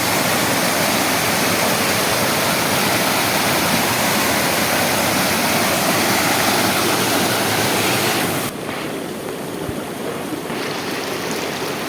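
A waterfall in Kashmir roars with a dense, constant rush of water, loud and close, easing slightly near the end but never stopping.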